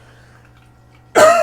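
After a second of near silence, a single sudden cough bursts out close and loud.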